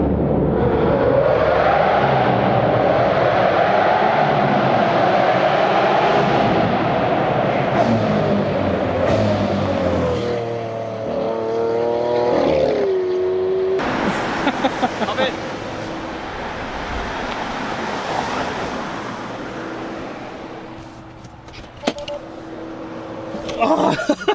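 A Lamborghini Aventador with a straight-pipe exhaust roars loudly and steadily, its engine pitch rising through revs and then dropping. The exhaust sounds like it is driving past, with road and wind noise and some talking mixed in.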